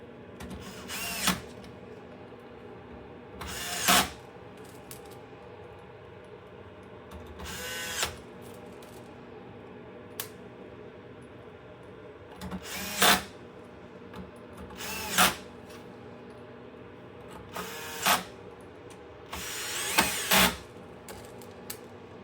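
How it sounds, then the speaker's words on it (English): Power screwdriver driving screws into a PS5 Pro console casing, heard as short whirring bursts about every two to three seconds, close up and alone against a quiet room. "Just gonna go around and put all these screws in."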